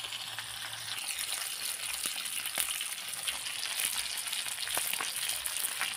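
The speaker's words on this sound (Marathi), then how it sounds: "तर फ्राय मारून घेते मस्त असे, चवीला पण जाम भारी लागतात." Bagda fish fry in a pan, a steady dense sizzle of oil with scattered sharp pops and crackles, continuous and close, with no voices.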